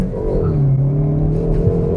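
Hyundai i30 Fastback N (2019) petrol engine revving high toward 6,000–7,000 rpm while cornering on a mountain road, a loud, steady close-up drone with a rising pitch sweep, no talking.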